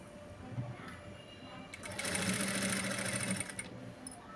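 A sewing machine stitches a blouse, starting after a few quiet moments and running in one fairly loud, even burst for about two seconds before stopping, with faint room noise around it.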